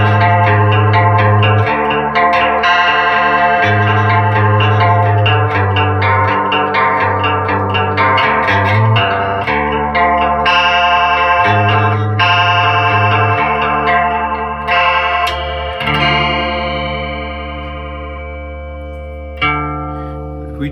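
Electric guitar on the bridge pickup through a 1980s Arion SCH-1 chorus pedal, loud close chords and single notes with a shimmering, wavering chorus effect, ringing out and fading near the end.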